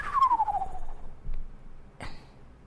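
A lone whistled bird call meant to imitate a magic spell, opening with a clear descending whistle followed by a short breathy burst; a voice imitating the sound, close and fairly quiet.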